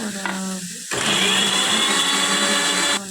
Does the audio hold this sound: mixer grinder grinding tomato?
yes